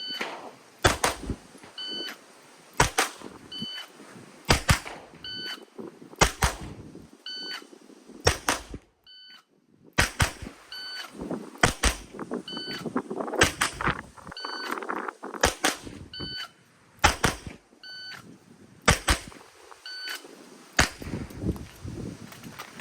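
Sharp, loud pistol shots from a CZ Shadow 2 fired at a target in pairs and small groups, each crack followed by a short electronic beep from a shot timer, with quiet pauses between strings.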